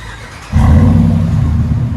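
RAM 1500 Big Horn with a 5.7L HEMI V8 and Flowmaster exhaust starts up halfway through and settles into a loud, deep, steady idle rumble after a quiet opening.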